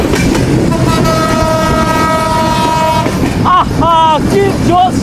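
Horn of the Kapotaksha Express, a broad-gauge intercity train, blares in a long sustained blast followed by shorter toots over the loud rumble and clatter of the moving train.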